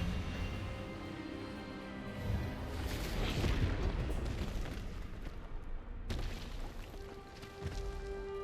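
An Expelliarmus disarming spell is cast in Hogwarts Legacy, a loud booming magical burst that swells mid-clip and then gives way to a sharp crack and a lingering tone, with no talk.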